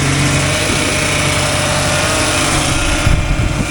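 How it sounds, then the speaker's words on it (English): A 2002 Chevy Silverado 2500HD with a 6.6L Duramax engine runs at a steady idle, with accessory belt noise. A dense, constant mechanical drone is heard close up and alone. "Some accessory belt noise going on down there."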